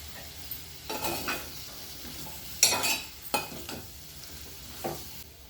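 Capsicum masala curry sizzles in a pan under a steady low frying hiss, broken by several scraping stirs of a spoon, close by and with no talking.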